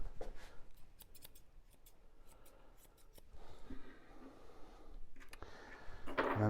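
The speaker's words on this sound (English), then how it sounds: "I'm using the curved scissors on this area here to really accentuate this area" Curved grooming scissors snip at an English Cocker Spaniel's coat around the stifle, a series of quick, quiet metallic clicks in irregular bursts, close and soft with light rustling between cuts.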